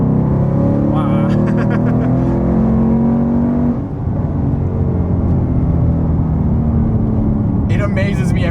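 A supercharged Ford Mustang GT, 675 horsepower, pulls hard from about 35 mph with a loud, rising engine roar and whine heard from inside the car, then settles to a steady drone with brief bursts of voice.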